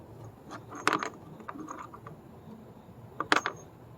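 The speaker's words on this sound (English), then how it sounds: "Now we're going to put back the 3 screws that we took out originally." Small screws go back into a Jeep Renegade 2.4L engine air filter lid with quiet metallic clicks and rattles, two brief clusters of ticking handling noise close by in a quiet space.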